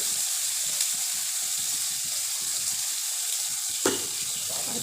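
Salt, turmeric and spices fry in oil for a hilsa and eggplant curry, a constant bright sizzle with soft stirring scrapes and one sharper clink near the end.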